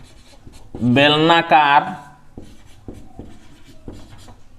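A pen scratches and taps lightly on paper in faint, short strokes, following a spoken phrase from a teacher.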